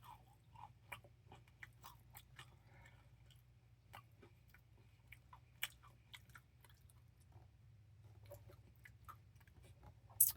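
Quiet, close chewing of a bacon sandwich with cereal, with soft crunches and bites in an irregular rhythm over a low steady hum and no talking.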